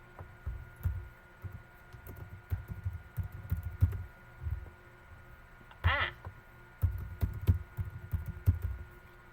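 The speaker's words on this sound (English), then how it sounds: "Typing while I'm not looking at the screen." Someone types on a computer keyboard in short bursts of soft clicking, close and quiet, with a brief high squeaky sound partway through and a low hum beneath.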